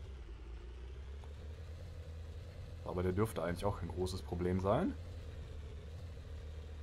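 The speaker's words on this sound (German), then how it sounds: "Der Motor keucht zwar ziemlich, ich hoffe der Motor ist für euch nicht zu laut" A low tank engine rumble from the video game Sprocket drones steadily throughout, heavy, straining and constant, while someone talks briefly over it in the middle.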